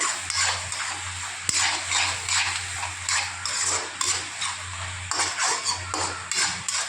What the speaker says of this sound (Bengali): দইটা দিয়ে আমি ভালো করে নাড়াচাড়া করে নেব।